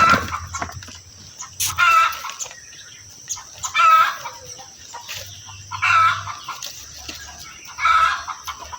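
Adult rooster at a Bamiléké skull-cult ritual, clucking and calling in four evenly spaced bursts, fairly close and loud, with a steady high hiss and faint low rumble between calls.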